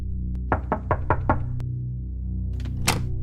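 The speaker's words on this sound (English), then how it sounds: "Knock knock." Five quick knocks strike a door in a steady, evenly spaced sequence, close and distinct, followed by a lone louder rap and a few scattered thumps later.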